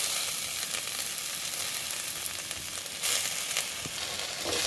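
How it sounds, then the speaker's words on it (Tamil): Chopped fenugreek (methi) leaves sautéing with cooked potatoes in a hot pan give a steady, close broadband sizzle, with a brief louder burst of frying near the middle and a few light stirring scrapes, no talking. "கீரையை சேர்த்து நல்லா வந்து ஒரு 10 நிமிஷத்துக்கு வந்து வதக்கிக்கணும்"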